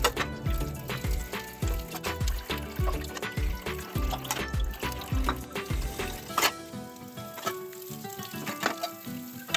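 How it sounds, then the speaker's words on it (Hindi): Dishes are washed under running water in a home kitchen, with continuous close splashing and trickling and repeated clinks and clatters of pots and utensils throughout, no talking. "मैंने बर्तन वगैरह धो लिए थे।"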